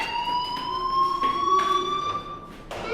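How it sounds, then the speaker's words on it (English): A fire alarm in Life is Strange rings steadily in a high, piercing tone, loud and continuous, with a sharp electronic edge throughout. "do you hear that fire alarm? That means you should be outside."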